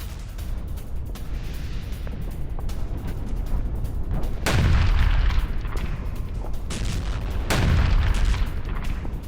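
Explosions from a Russian air strike on Ukraine: two heavy, deep booms about three seconds apart rise out of a rumbling background, each followed by a rolling decay.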